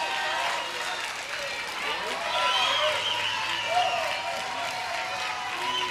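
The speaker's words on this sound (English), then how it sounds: "Washington crowd getting loud," A Little League World Series crowd cheers and claps steadily at a 2021 baseball game, a broad wash of distant voices and applause with a commentator talking over it.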